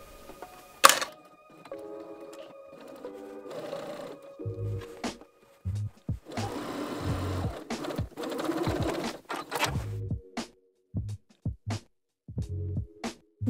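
Bursts of a sewing machine with a zipper foot stitching a dress's center back seam in short runs, stopping and starting repeatedly, with some handling noise and clatter in between.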